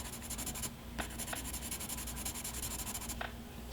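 A Princeton filbert brush loaded with water-soluble graphite swatches across paper, giving soft, faint scrubbing and rubbing strokes in short repeated bursts, close and quiet, with no talking.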